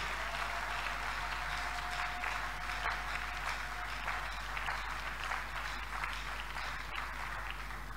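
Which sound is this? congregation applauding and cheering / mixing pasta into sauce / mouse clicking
congregation applauding and cheering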